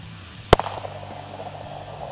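A single sharp 9mm pistol shot with Critical Duty ammunition cracks into the bone of a chuck roast, loud and sudden, then a brief ringing decay into quiet room noise.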